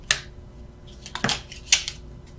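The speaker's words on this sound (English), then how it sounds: "I was just shuffling for the sake of it." Tarot cards are shuffled close to the microphone, giving three short, crisp riffling bursts in a quiet room with no talking.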